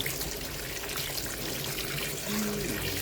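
Running water from a tap rinsing noodles, a steady close splashing flow lasting a few seconds.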